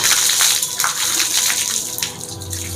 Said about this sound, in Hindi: आपको पानी लेना है और सर से लेकर के पाँव तक पानी बहाना है